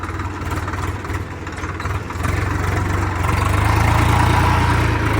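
A heavy Swaraj 744 XT tractor engine runs steadily in first gear while ploughing hard, dry soil, a low rumbling drone that grows slightly louder and rougher in the second half, with no voices.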